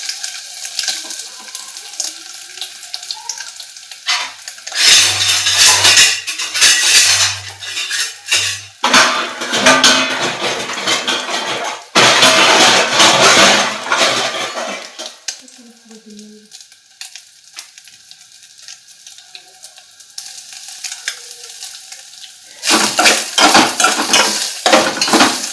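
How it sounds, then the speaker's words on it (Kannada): Soy chunks frying in ghee, loud bursts of sizzling alternating with quieter gaps, mixed with pan clatter and spoon scraping, close up with no voices. "ಒಂದು ಸ್ವಲ್ಪ ತುಪ್ಪದಲ್ಲಿ ಬಿಸಿ ಆದಮೇಲೆ ಇದನ್ನ ನಾವು ಫ್ರೈ ಮಾಡ್ಕೊಂಡು ಇಟ್ಕೊಳ್ಳೋಣ ತುಪ್ಪದಲ್ಲಿ"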